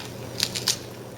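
A fava bean pod is peeled open by hand in a kitchen, giving a few quick, faint crisp snapping and tearing crackles in close succession over a quiet background.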